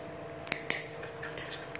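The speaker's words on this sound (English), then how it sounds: "all I'm going to do is just snip it off, you know, right about there or so" Cutters snip off excess bike brake cable wire in two sharp, quiet metallic clicks close by, with soft handling noise after and no talk.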